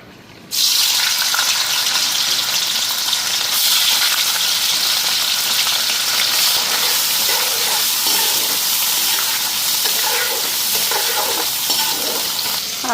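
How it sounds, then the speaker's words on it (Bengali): Pieces of paneer frying lightly in mustard oil, a loud, close, steady sizzle that starts abruptly and continues unbroken, with faint stirring scrapes and no talk. "পনিরটা পিস পিস করে নিলাম আর এখানে সরষের তেল দিয়ে দিলাম। পনিরটা হালকা ফ্রাই করে নিই"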